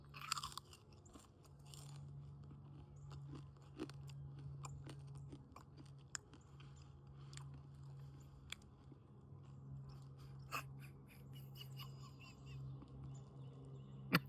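Crunchy homemade bacon is chewed close up, giving repeated crisp crunches and bites over a steady low hum, with no talking.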